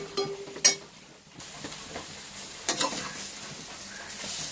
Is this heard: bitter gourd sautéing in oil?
yes